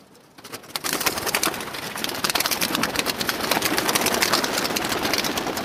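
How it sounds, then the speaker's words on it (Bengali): A flock of pigeons, including some young birds, is released close by, wings rustling and beating in a dense, continuous clatter that builds after a brief quiet start. "এখন কবুতরগুলো ছাড়বো"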